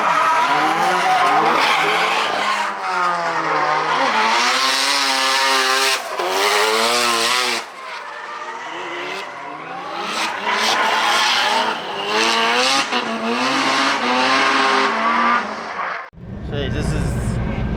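A drift car at Owara Circuit during a D1 divisional practice day, its engine revving loud and close with rising and falling pitch over sustained tire noise, ending in a sharp burst.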